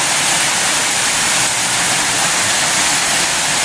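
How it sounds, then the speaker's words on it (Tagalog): Heavy rain pouring down outdoors, a loud, unbroken roaring wash of noise that holds steady throughout. "Sobrang ulan ng kalangitan!"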